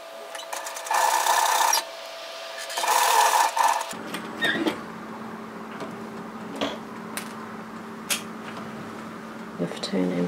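A sewing machine stitches an apron dress in bursts of steady whirring, each run lasting about a second. Brief pauses and a few small clicks and knocks from handling the fabric come between the runs.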